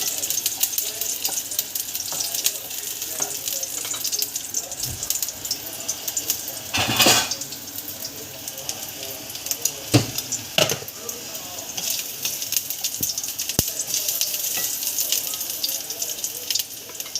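Garlic sizzles steadily in a hot pan while a utensil scrapes and clinks against the metal now and then, the frying hiss constant and close throughout.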